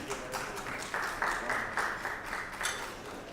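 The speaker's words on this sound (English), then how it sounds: "Can we have a round of applause please for them?" Moderate applause from a crowd at a property event in Gurugram, steady clapping that swells in rhythmic bursts, with faint voices underneath.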